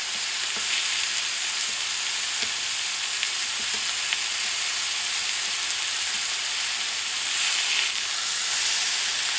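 A steak in a hot pan with butter mix and rosemary gives off a loud, steady hiss and crackle of sizzling fat throughout, close and continuous with no talk.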